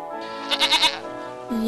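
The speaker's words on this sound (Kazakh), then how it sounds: "Ешкі." A goat bleats once in a short, wavering cry of several quick pulses, close and clear against a quiet background.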